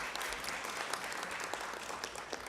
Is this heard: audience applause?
yes